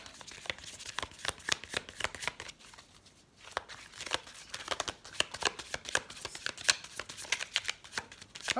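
Elf oracle cards being shuffled by hand make a close, continuous run of rapid papery flicks and riffles, with a brief pause partway through.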